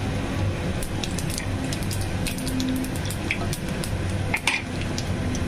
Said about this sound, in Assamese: ইপিনে তেলটো গৰম হৈ গৈছে, দুটা তেজপাত দি দিম। ইয়াত দিম গোটা গৰম মছলা